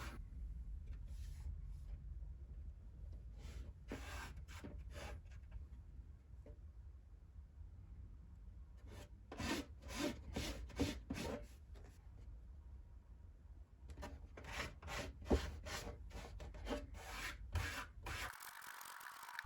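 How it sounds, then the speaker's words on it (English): Drywall mesh tape is pressed and rubbed over seams while patching a hole, producing repeated scratchy rubbing strokes in short bursts, close and moderately quiet, without speech. "Now we're going to apply our mesh tape over the seams."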